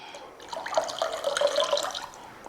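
Water is poured into curd in a pan, a short, close, continuous trickling splash lasting about two seconds.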